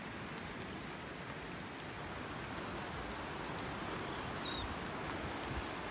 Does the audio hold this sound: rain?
yes